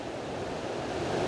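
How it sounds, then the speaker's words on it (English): Rushing water at a waterfall swollen by heavy rainfall, a steady broadband roar that is loud and continuous with no break. "Got the water rushing down this part"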